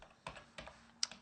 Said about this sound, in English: we're gonna go ahead and type in my file.